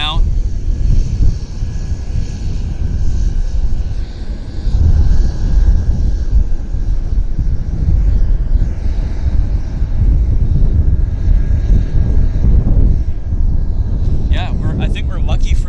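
A jet turns onto the active runway at Vancouver YVR, heard as a continuous engine roar mixed with wind buffeting the microphone, while a person talks over it throughout.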